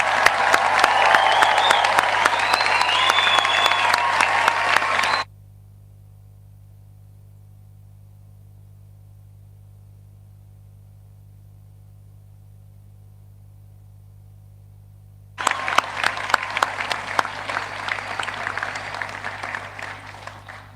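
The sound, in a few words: audience applause for graduates at graduation ceremony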